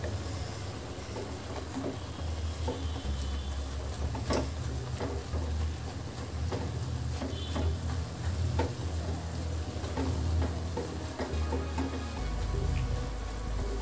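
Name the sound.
frying drumstick (moringa) leaves, stirring in pan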